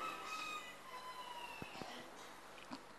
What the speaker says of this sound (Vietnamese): Thầy không ngờ giữa phố thị mà còn có nghe tiếng gà gái.